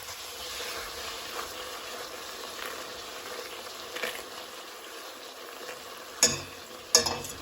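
Kazakh shelpek, thin flatbread, frying in hot oil with a steady low sizzle and faint stirring and scraping, two sharper clatters near the end, no voices.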